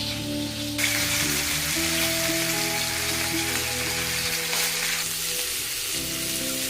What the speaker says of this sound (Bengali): এদিকে আমটা ভেজে নিচ্ছি।